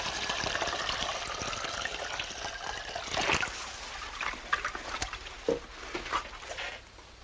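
Water poured from a bucket onto a patched vehicle to check for a leak, a continuous splashing gush that thins into trickles and drips, close by with a few knocks, no talk.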